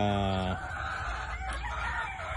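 A gamecock broodcock rooster in a pen, heard close and loud at the end of a harmonic crow, followed by softer clucking and farmyard background.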